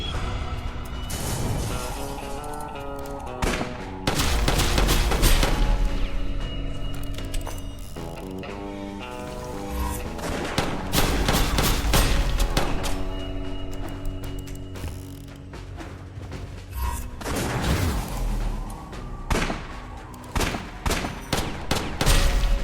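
Bursts of bolt gun fire in the game West of Dead, rapid shots in clusters with mechanical clacks and crashing impacts, loud and close, broken by short pauses.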